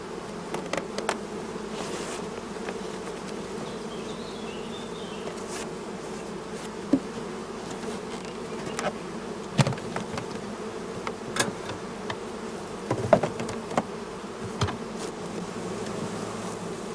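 Honey bees buzzing around brood frames of a small hive nucleus, a dense, steady hum close by with occasional louder individual bees passing near.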